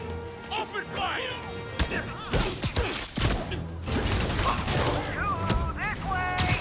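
Criminals open fire in Spider-Man Remastered: bursts of gunshots and heavy impacts crack through a busy fight, with voices shouting over the action.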